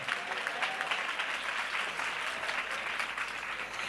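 Continuous congregational clapping in honour of an elder at a church gathering, a full even patter of many hands sustained for several seconds without speech.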